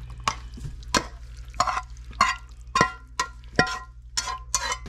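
A bean mixture being stirred after an ingredient is added, giving a run of about nine scraping, clinking stir strokes close up in a steady rhythm over a low hum, with no talking.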